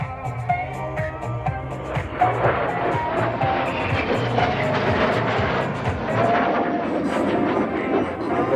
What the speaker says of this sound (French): C'est un avion d'entraînement, il est très manœuvrant, Alpha Jet